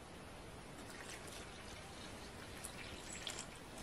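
Lukewarm water, 330 grams, poured into flour for dough, a soft steady trickle heard quietly for several seconds with no talking.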